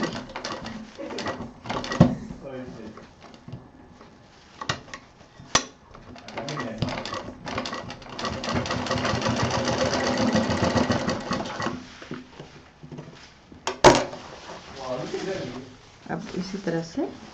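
Sewing machine stitching a double seam through four layers where a belt joins the strap of a homemade college bag, running in short bursts and one longer steady run, with a person talking over it.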